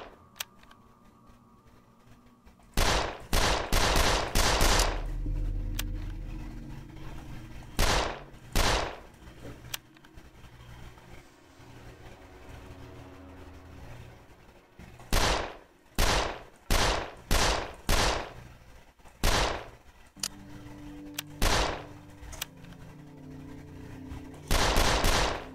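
Bursts of rapid gunfire from the video game 13 Days in Hell, several separate volleys of machine-gun fire and single shots, loud and close, with quiet gaps between them.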